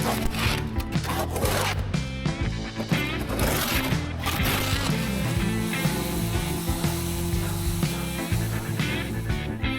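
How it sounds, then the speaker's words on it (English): Continuous gritty rubbing and rasping of sandpaper on an old boat, steady and close, with a low hum underneath. "sanding, sanding, sanding."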